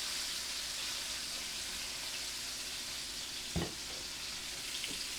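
Chicken pieces fry skin side up in a pan, giving a steady, broad sizzle that carries on evenly throughout, broken by a single brief clatter near the middle and a faint knock toward the end.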